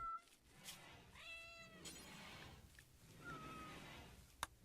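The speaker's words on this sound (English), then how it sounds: "I've always thought Scrumptious is one of our male cats." A cat in the colony-management game RimWorld meows a few times, the drawn-out game-sound cries faint and quiet over a soft background hum, with no talk.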